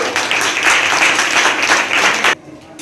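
Audience applause at a quiz competition, a loud burst of many people clapping for over two seconds before it cuts off abruptly into near silence.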